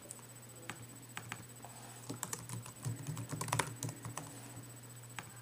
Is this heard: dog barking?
no